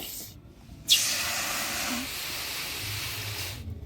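Water poured onto sona moong dal fried until reddish hits the hot pan with a sudden, loud sizzling hiss that bursts in abruptly and hisses steadily for about three seconds before stopping.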